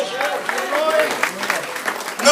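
A church congregation applauds in a dense, continuous patter of clapping, heard close, with a speaking voice carrying over it.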